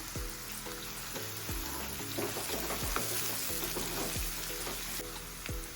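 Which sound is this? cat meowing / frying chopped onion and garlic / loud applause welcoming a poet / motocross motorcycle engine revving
frying chopped onion and garlic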